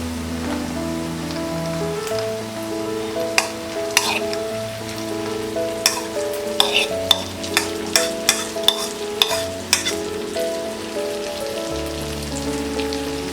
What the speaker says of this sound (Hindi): अब हम इसमें डालेंगे ये स्लाइस्ड टिंडोरा या तेंदली